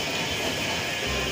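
Steady rumbling rail noise of a Kochi Metro train arriving, a continuous broadband roar with a low thump near the end, no voices.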